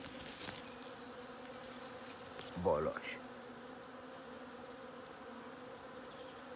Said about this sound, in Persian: دیگه زنبوران دیگه معلومن دیگه